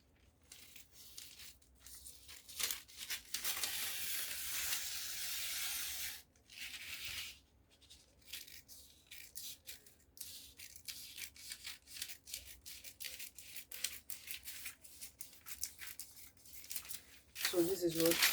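Scissors cutting a drafted paper sleeve pattern, heard as close, repeated rustling snips and paper crinkles in bursts with brief pauses between them.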